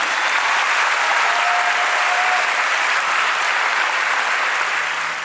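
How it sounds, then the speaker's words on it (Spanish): Loud, sustained applause from a large crowd fills a graduation ceremony for a school's 2025 graduating class, a dense, steady roar of clapping that runs without a break before it begins to taper at the end. "Muy bien, el aplauso bien fuerte."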